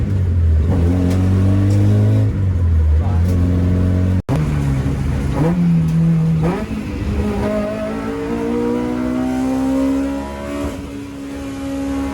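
An autocross-prepared DC5 Acura RSX engine revs and pulls hard through rising and falling gears, loud and close, with a brief dropout partway through and no talk.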